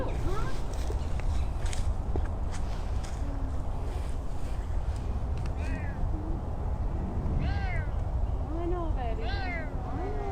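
A Savannah cat meows several times in short rising calls over a constant noisy background with some talk in the enclosure area.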